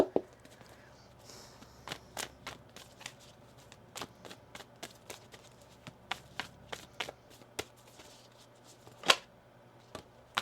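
A tarot deck being shuffled by hand in a quiet room, with repeated crisp card riffles and sharp taps spread through the clip, one louder snap near the end.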